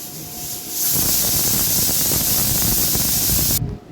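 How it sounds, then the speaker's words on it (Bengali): Mutton cooking in a pressure cooker, building up before its whistle: a loud, close, rushing steam hiss that swells after a second, holds steady, then cuts off near the end, with no talk. "রান্নাঘরে কিন্তু প্রেসার কুকারে তিনি বসেও গেছেন, আর আপাতত এখন সিটি দেওয়ার পথে তিনি"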